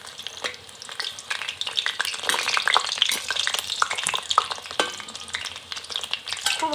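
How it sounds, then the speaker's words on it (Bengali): Chicken pakora pieces frying in hot oil over a very low flame, a dense crackling sizzle with sharp pops and occasional stirring scrapes, loud and close with no voices. "খুব হালকা আঁচে এটাকে ভেজে নেব ভালো করে।"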